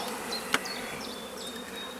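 Honey bees buzzing in an opened hive during frame inspection, a dense continuous hum near the microphone, with a brief sharp click partway through.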